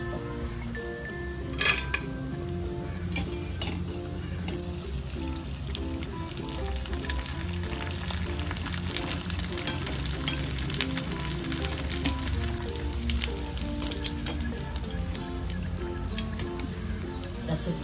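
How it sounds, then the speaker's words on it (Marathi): Sabudana and potato kurkure fry in hot oil over low heat, a continuous close bubbling sizzle with faint utensil clinks and a voice talking in the background. "असं तेल तापून घ्यायचं, नंतर मंद आचेवर तळायचं."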